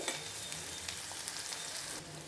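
Curry leaves fry in hot oil in a pan for a vada curry, a steady close crackling sizzle with light stirring and small pops throughout, and no talk.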